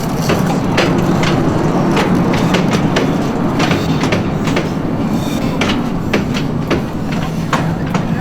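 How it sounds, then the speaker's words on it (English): A small steam-powered model train runs along its miniature track, giving a continuous rolling rattle with repeated sharp clicks and clacks at close range; faint voices may sit underneath. "This is actually a steam-powered train."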